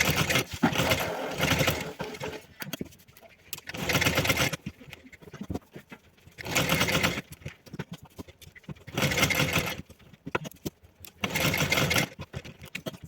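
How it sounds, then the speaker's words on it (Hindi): Sewing machine stitching fabric layered with foam, running in five loud bursts of rapid whirring, each lasting one to two seconds, separated by pauses with light handling noise. "और इस पे इस तरीके से निशान लगाएंगे और इसी निशान पे सिलाई करेंगे।"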